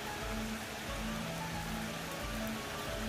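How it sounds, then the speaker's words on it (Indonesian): Steady rain falls outdoors at a sacred site in Yogyakarta, a constant hiss of drops hitting surfaces with a low rumble underneath and no speech. "Hujan berkah, ini berkah."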